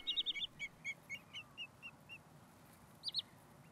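A short-eared owl gives a quick run of about ten faint, evenly spaced yelping notes, then a brief pause and two more calls, heard at a distance over quiet background hiss.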